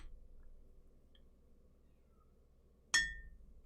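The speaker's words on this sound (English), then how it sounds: "my cat is being super annoying right now" A pet cat gives a single short meow, sudden and fairly close, at the end of a quiet stretch with a low steady background hum.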